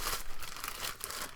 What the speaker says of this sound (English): maybe we do need the knife just to cut things open here